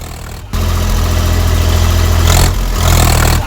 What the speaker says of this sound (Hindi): किसान जिस ट्रैक्टर से खेत की जुताई कर रहा था उसी ट्रैक्टर से उसने हाथियों को खदेड़ना शुरू कर दिया